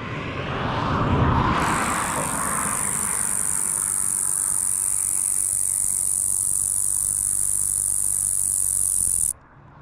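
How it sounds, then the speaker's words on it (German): Large crickets outdoors in Turkey trill in a continuous high, shrill chorus that holds steady and close for most of the stretch, starting after a brief rustling burst and cutting off abruptly near the end. "Das sind Grillen, das sind Riesendinger."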